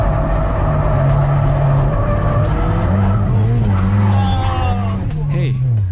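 Mazda Miata on a race track during a first track day, engine revving through gear changes as the tires skid and squeal loudly, with talking over the top.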